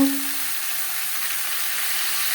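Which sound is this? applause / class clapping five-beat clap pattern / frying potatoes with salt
frying potatoes with salt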